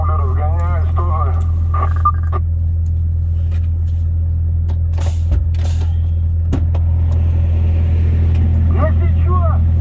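Volvo FH 540 truck cab climbing uphill on a road to Yakutsk with a tire chain fitted, a steady deep engine drone throughout with a few creaks and clunks while people talk over it.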